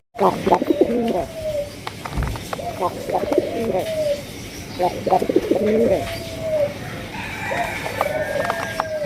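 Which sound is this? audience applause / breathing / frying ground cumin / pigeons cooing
pigeons cooing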